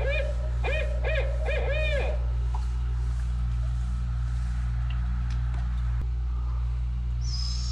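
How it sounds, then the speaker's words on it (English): A series of barred owl calls played from a phone, several quick rhythmic hoots in a row, then a quiet stretch with low engine-like hum underneath. "call a juvenile barred owl to our backyard by using owl noises on my phone"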